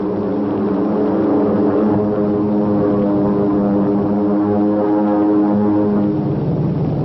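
Propeller airplanes of a wartime transport command flying, a loud, steady droning roar of piston engines with a throbbing, humming tone sustained throughout.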